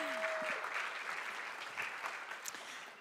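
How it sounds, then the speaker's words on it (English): Graduates and guests at a College of Medicine awards day ceremony applaud their support systems, a sustained even wash of clapping from a large crowd heard at a distance, fading slightly toward the end. "Let's give them a round of applause."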